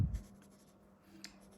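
Leonardo MZG fountain pen with a titanium nib scratching across paper, a soft continuous writing scrape with a faint low background hum.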